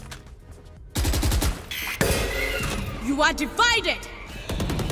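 Gunfire from an online shooter game, several bursts of shots cracking loudly over in-game sound effects and a voice talking throughout.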